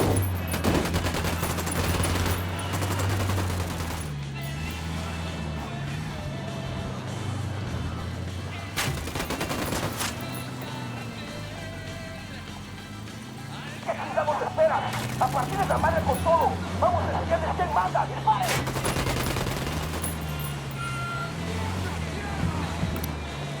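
Gunfire and fusillades in the video game Ghost Recon Wildlands, with loud repeated shot bursts and engine-like rumble mixed with game music and voices across the whole stretch.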